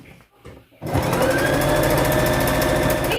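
A sewing machine stitches a fabric face mask, starting after a brief quiet moment of soft handling and then running in a steady, loud, close mechanical whir to the end.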